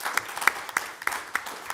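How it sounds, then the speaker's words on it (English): Brief, sparse clapping at an academic conference on film music and politics, a handful of distinct, fairly near hand claps in an uneven rhythm over less than two seconds. "could I just ask everybody to join me in applauding Nikolai"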